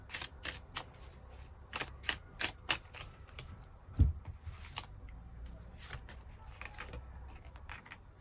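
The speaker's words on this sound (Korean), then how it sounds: "추가 카드 뽑아보도록 하겠습니다" Tarot cards are shuffled in a quick series of crisp flicking snaps, followed by a soft thump as a card is set down, then lighter rustling as more cards are drawn.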